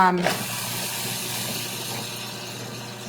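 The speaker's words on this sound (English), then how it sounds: "you're going to see how efficient this machine is at chopping up ingredients" A food processor whirs steadily while chopping cilantro, a loud continuous hissing motor roar that starts abruptly and runs without pause.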